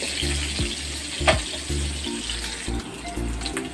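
Garlic sizzles steadily in a pan for chicken apritada, a close frying crackle broken by repeated clinks and scrapes of the spatula in an uneven stirring rhythm, with no speech.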